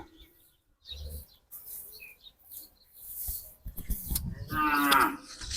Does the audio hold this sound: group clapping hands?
no